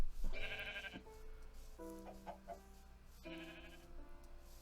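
Sheep bleating in the Minecraft video game: several loud, close, wavering bleats in separate bursts, one after another, over a low steady background, with no talking.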